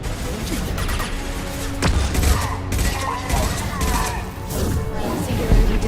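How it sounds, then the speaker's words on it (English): Flashbang grenades go off amid combat in Mass Effect 2, loud bursts and crashes over continuous dense gunfire and battle noise. "Watch out, flashbangs!"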